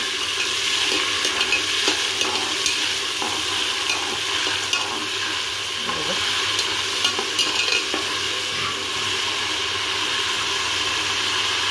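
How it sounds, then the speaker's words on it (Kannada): Spices sizzle steadily in hot oil for a chicken dum biryani, a continuous close frying hiss with occasional spoon scrapes and knocks as the mixture is stirred. "ಹಾಗಾಗಿ ಇದು ಸ್ವಲ್ಪ ಹಾಗೇ ಫ್ರೈ ಮಾಡ್ಕೊಳ್ಳೋಣ."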